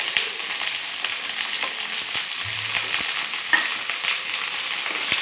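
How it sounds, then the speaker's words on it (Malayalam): Green chilies, coriander seeds and garlic sauté in hot oil in a pan, giving a steady close sizzle with light stirring scrapes and a few clicks throughout. "പച്ചമുളക് ചെറുമല്ലി വെളുത്തുള്ളി എല്ലാം കൂടെ നമുക്കൊന്ന് വഴറ്റി എടുക്കാം"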